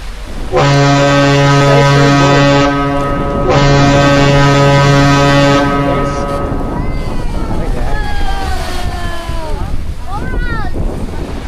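A boat at sea off Boracay sounds a long, loud horn blast twice in a row. Steady wind and water noise run underneath, and voices talk and shout nearby.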